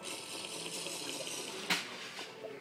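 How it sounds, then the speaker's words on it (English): A character drinking milk in Minecraft makes quick, soft liquid gulping sounds over a faint background, with one sharper splash-like burst in the middle. "I'm going to drink some milk"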